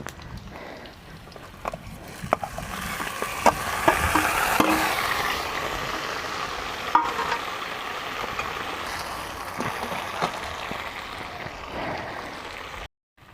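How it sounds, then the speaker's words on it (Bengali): Gobindobhog rice is stirred in a pan with fried potatoes. A soft, continuous sizzle runs under scattered scraping clicks of the spoon, and there is no talk. "আলু আমার ভাজা হয়ে গেছে, এবার দেব গোবিন্দভোগ চাল।"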